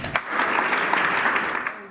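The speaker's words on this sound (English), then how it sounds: "Please give Coach Norm Stewart a huge round of applause." A crowd in a high school basketball gym claps steadily for a retired college coach being honored, a dense, even wash of applause that carries through the full two seconds.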